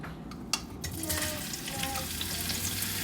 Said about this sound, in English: I'm going to add in the onion and then the garlic